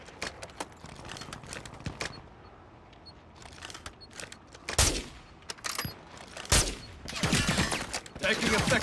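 Gunfire in Call of Duty crackles in scattered bursts and single shots, some near and loud, others distant, building into heavier volleys toward the end, with a faint voice in the background.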